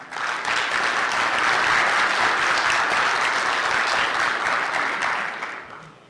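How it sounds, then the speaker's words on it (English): Loud, dense applause fills a conference hall at a security convention as a speaker on trusted hardware is introduced, swelling quickly, holding steady for several seconds, then tapering off at the end. "please, everybody give a huge round of applause for Ryan Lackey"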